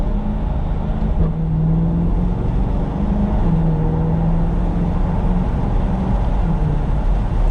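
A 2020 C8 Corvette in track mode, a loud, steady engine and exhaust drone heard from inside the car, with the pitch rising and falling a little as it drives, and no talk over it.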